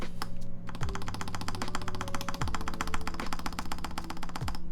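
Rapid, even clacking of a Matrix Lab 8XV 2.0 mechanical keyboard, keys pressed in a fast steady stream, close and crisp with no voices.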